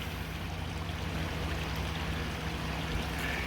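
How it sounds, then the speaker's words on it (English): Steady, unbroken rush of a creek flowing beneath an abandoned flour mill in Pennsylvania, where it once turned a water wheel. The water is close, with an even, constant wash and no voices. "But that creek right there, see underneath the building back there"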